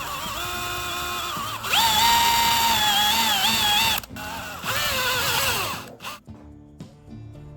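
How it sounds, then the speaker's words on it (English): A power drill bores holes in rubber pieces cut from old tires: a loud close whine that dips and rises as the bit bites, pauses briefly, runs again, then stops. "The marked points on both rubber pieces will also be drilled into holes."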